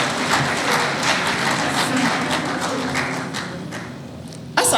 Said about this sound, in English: it deserves a very, very big clap